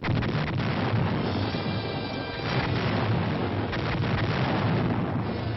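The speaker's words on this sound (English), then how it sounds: "At H-5, the artillery opens up." Military artillery fire opening up before a rifle platoon attack, heard as a continuous loud, dense rumbling roar of distant barrage without distinct pauses.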